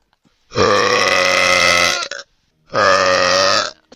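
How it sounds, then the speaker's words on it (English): Two long, loud, deep burps sound up close, the first stretching about a second and a half before a brief pause, then a shorter second one, with no talk around them. "You gotta have it right so the burp doesn't scatter your eardrums."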